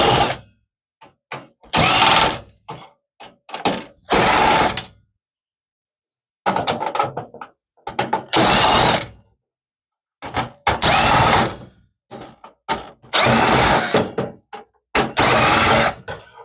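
A power screwdriver backs eight motherboard screws out of a Dell Precision T1700 workstation, heard as loud whirring bursts of one to two seconds each, close up, separated by short silences and small clicks.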